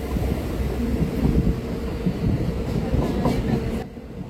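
Passenger train running along the tracks toward Sabroom, rumbling steadily with a low rolling roar and faint wheel clatter, close and continuous, then dropping away abruptly near the end.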